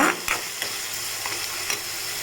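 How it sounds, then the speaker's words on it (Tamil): Onions sauté in oil with a steady sizzle while a spatula scrapes and stirs the pan in a few distinct strokes, close and clear. "வெங்காயத்தை நல்லா இந்த மாதிரி நல்லா வதக்கிக்கோங்க"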